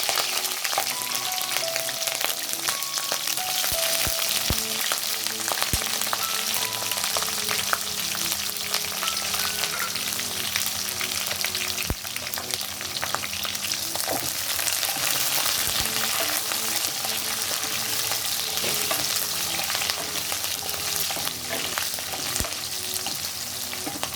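Mustard seeds sizzle and crackle in hot oil over a high flame, a steady dense frying hiss with scattered sharp pops and occasional stirring, tempering for rava dhokla.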